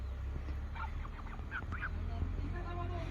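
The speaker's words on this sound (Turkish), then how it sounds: "Burada da kazlar var." Geese in a village in Tokat, Turkey honk in a loose cluster of calls over a steady low rumble of outdoor background noise, moderately distant.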